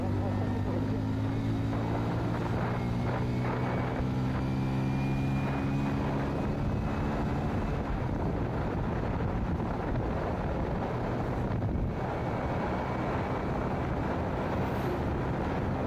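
A Hero Splendor Plus motorcycle cruising at speed in fourth gear on a road, a steady engine drone mixed with heavy wind rush that continues without a break.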